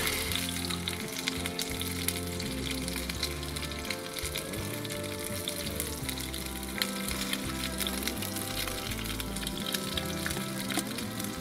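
Food sizzles in a hot pan over an outdoor cooking setup, a dense, steady crackle and hiss that carries on for several seconds without talk.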